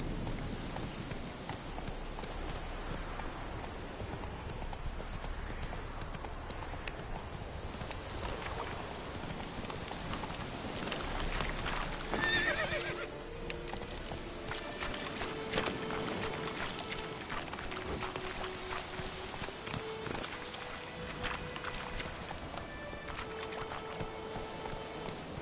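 Hooves of the horse Roach in The Witcher video game clop in a steady, continuous rhythm over a busy outdoor ambience, close and moderately loud throughout.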